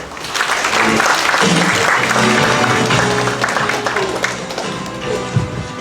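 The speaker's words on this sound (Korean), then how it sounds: "그래서 TV까지 사업에 왔을때 박수 한번 주십시오" Loud, dense clapping from a crowd at an urban development project briefing in a wedding hall in Mungyeong, sustained throughout with some irregular taps and faint murmuring underneath.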